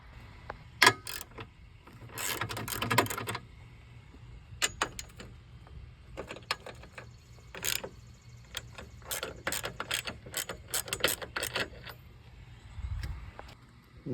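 A hand ratchet works 15mm bracing bolts loose on a BMW 528i F10 engine bay, giving irregular bursts of sharp, close clicking separated by short quiet gaps and metallic clunks.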